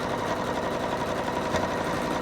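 Embroidery machine sewing a knockdown stitch onto a towel, a continuous fast, even mechanical whir with rapid needle rhythm, close and steady, no voices.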